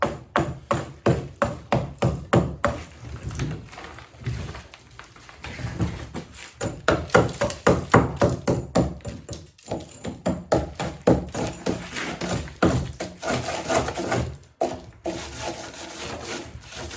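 Chips are knocked off the edge of a cement rock made with a cardboard form, giving a long run of rapid, rhythmic scraping and tapping strokes with short pauses in between, close and fairly loud.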